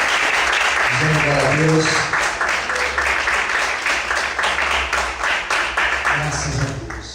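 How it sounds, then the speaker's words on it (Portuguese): Loud, sustained applause from a church congregation, with a dense wash of clapping that holds steady throughout while a voice speaks over it. "Você pode desocupar a sua mão e aplaudir o Senhor esta noite"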